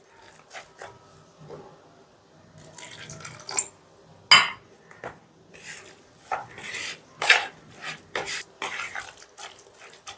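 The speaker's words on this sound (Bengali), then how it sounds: "সেই জন্য অল্প অল্প জল দেব আর ব্যাটারটা মেখে নেব" Semolina pakora batter being mixed with small additions of water, a spoon clinking and scraping against the bowl in irregular bursts with quiet pauses between them.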